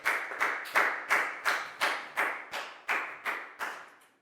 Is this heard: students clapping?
yes